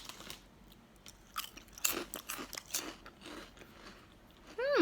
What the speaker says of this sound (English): I want to try my little Quavers.